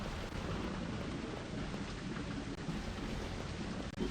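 A thunderstorm with lightning and rain in the video game Ultima IX: Ascension, a dense, steady roar of rain with low thunderous rumble, continuous and full throughout.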